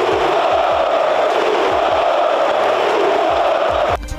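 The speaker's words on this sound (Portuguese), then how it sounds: "a torcida do Flamengo já estava provocando muito o goleiro por causa da falha" Flamengo supporters in the packed Maracanã stadium taunting a goalkeeper: a dense, loud, unbroken crowd roar of massed voices that holds steady, then thins slightly right at the end.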